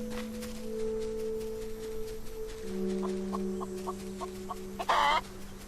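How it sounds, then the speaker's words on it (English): A chicken in the video game Solarpunk clucks in a quick run of short, evenly spaced clucks, then gives a louder squawk, over a steady droning game music tone. "Because I know there's a chicken that lives here."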